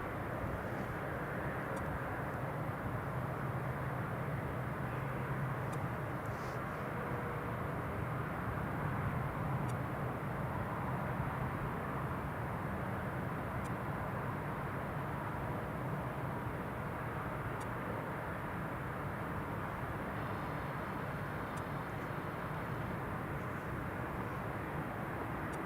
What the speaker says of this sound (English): So next arrival is this Airbus A319,